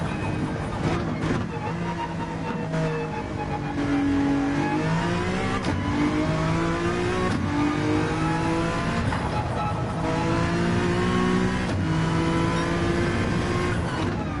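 A Honda NSX races in the video game Gran Turismo 7, its engine roaring loud and continuous, the pitch climbing with each rev and dropping briefly at gear shifts.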